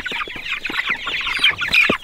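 Pasture-raised chickens cluck close by, a busy run of short clucks and squawky calls in irregular rhythm, fairly loud with no talking over them.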